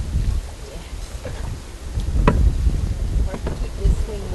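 Strong wind gusting outdoors in a forest during fall muskrat trapping, a steady rumbling roar with buffeting swells and occasional louder gusts that dominate throughout.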